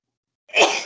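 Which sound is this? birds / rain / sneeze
sneeze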